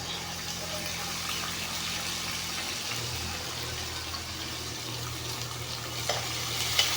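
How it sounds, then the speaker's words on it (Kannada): Onions frying in a pan with cumin, pepper, garlic and chilies for ridged gourd chutney, a steady close sizzle running throughout with a low hum beneath and occasional stirring clatter. "ಚೆನ್ನಾಗಿ ಫ್ರೈ ಮಾಡ್ಕೊಳ್ಳೋಣ ಸ್ವಲ್ಪ ಬ್ರೌನ್ ಕಲರ್ ಬರಬೇಕು ಈರುಳ್ಳಿ ಚೆನ್ನಾಗಿರುತ್ತೆ"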